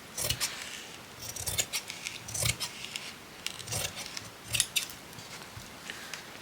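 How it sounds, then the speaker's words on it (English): Scissors snipping along the edges of a fabric snippet roll, a series of quiet crisp cuts in uneven rhythm, close with soft rustling between strokes and no speech. "I'm going to cut the edges"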